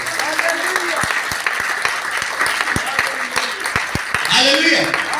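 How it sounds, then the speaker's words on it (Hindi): A church congregation bursts into loud sustained applause and cheering, dense clapping filling the space with a few brief shouts and voices rising over it near the end. "जोरदार ताली बजाओ।"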